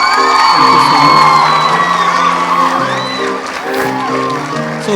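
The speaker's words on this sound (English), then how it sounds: "as we give them another round of applause" A loud crowd at a school speech and prize giving day cheers, whoops and shouts while clapping, with children's voices prominent and music playing beneath the noise, continuous throughout.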